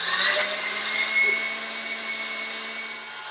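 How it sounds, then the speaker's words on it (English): An electric mixer with a whisk attachment beats softened cream cheese at medium speed, giving a steady, close motor whir with a high whine that holds even and unbroken throughout. "I'm just going to beat this for about a minute on medium speed until it becomes a little creamier"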